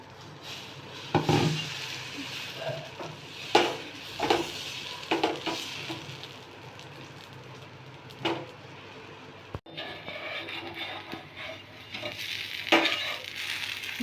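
Ragi dosa cooks on a pan, a low sizzle punctuated by intermittent scraping and clattering of utensils against metal, with a sharp knock midway followed by a steadier, brighter hiss.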